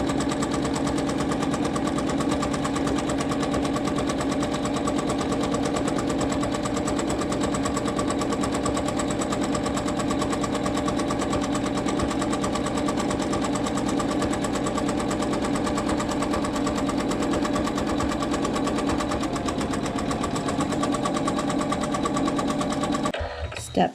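An embroidery machine stitches continuously to tack wool down onto a quilt block, a steady rapid mechanical chatter with a low motor hum that runs unbroken for over twenty seconds, then stops abruptly.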